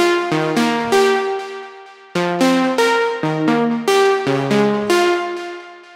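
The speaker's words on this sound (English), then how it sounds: "Over to some leads. This one is called Angel and sounds like this." Synth lead preset named Angel, playing bright, plucky arpeggiated phrases in repeating bars, clean and close with no voice over it.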